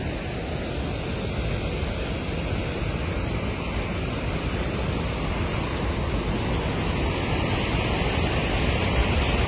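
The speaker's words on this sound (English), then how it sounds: "This waterfall is a mile long. I'm here at Victoria Falls and we're walking the path" Victoria Falls, a mile-long waterfall, produces a heavy, steady roar heard from a walking path, a constant broadband rush with some wind buffeting and no break in intensity.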